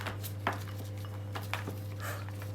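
A hot isomalt sugar decoration is set down on a dish, making a few light, sharp clinks spaced apart over a steady low hum.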